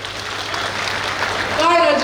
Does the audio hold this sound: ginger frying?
no